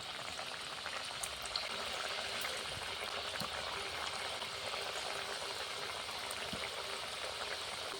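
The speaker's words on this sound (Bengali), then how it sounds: "এবারে আমি এক এক করে ঠেকুয়াগুলোকে দিয়ে ভেজে নেব" Thekua frying in hot oil in a kadai over a high flame, a steady, close hiss of bubbling oil with faint crackles and pops throughout, no speech.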